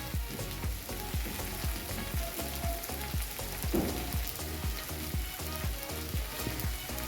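Spices with chilli powder, Kashmiri chilli powder, cumin powder and sugar fry in hot oil with a steady, dense sizzle, while regular scraping strokes of a spatula repeat about twice a second throughout.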